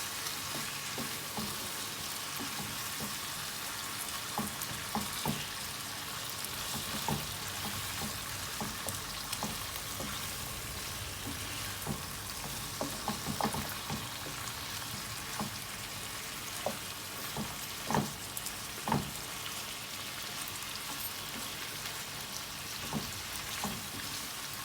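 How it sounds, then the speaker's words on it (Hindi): Spiced masala sizzling and frying in a pan for chicken karahi, a steady close crackle with scattered sharper pops and stirring scrapes throughout, no voices. "दो से 3 मिनट मैं इसमें मसालों को भूनूंगी।"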